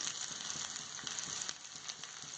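Onions sizzle in hot oil in a pan for paneer fried rice, a soft, steady crackling hiss with faint stirring clicks, quiet and close with no voices.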